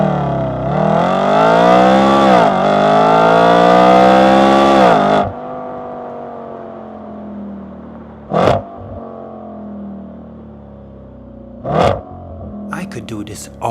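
An Audi RS4 Avant (B8.5) engine screams up loudly to 8,250 RPM for several seconds, then drops away; two short sharp revs blip out later over a low idle rumble.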